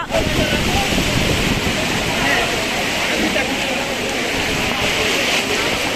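Heavy rain pours down during a severe storm at an outdoor cattle market, a loud, dense, unbroken hiss that fills the whole stretch, with a voice faintly audible beneath it.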